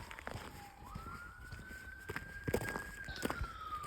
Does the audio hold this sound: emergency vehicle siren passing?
yes